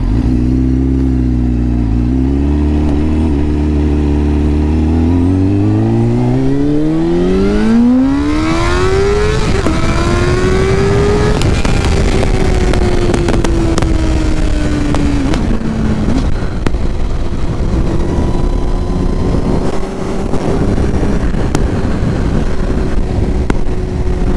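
A 2004 Triumph Daytona 600 motorcycle being ridden, engine loud and near, rising through gears with a long climbing rev to high pitch, then shifting and holding a strong whine amid wind rush.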